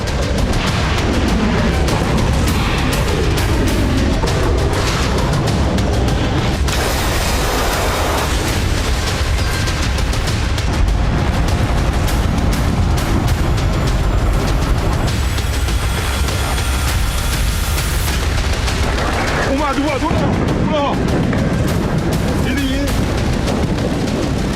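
Missile strikes and explosions from wartime footage of Iran, a dense continuous roar of booms and blasts running throughout, loud and sustained, with heavier impacts near the middle and end.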